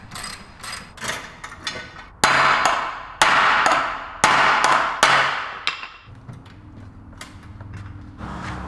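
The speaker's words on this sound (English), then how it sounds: "I'm just gonna hammer it out, I think. Yeah, that'd be fine. With the brass hammer." Hammering with a brass hammer on the sheet-metal body of an M3 widebody drift/grip project car: about eight sharp, ringing metallic blows in an irregular rhythm, loud and close, then a quieter shop hum with no speech.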